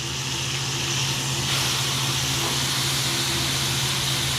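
Ribeye steak searing in a hot pan, its fat sides rendering, a loud steady sizzle and hiss that holds without a break.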